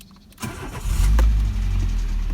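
Renault Logan engine cranking and catching after a short starter whir, then settling into a loud, steady, close-up idle with a low rumble and faint irregular ticking.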